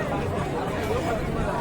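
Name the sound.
crowd chatter at Kaal Bhairav temple, Ujjain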